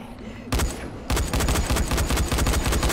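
Rapid gunfire from the zombie video game Dying Light: a short burst, a brief pause, then a sustained stream of loud, close shots.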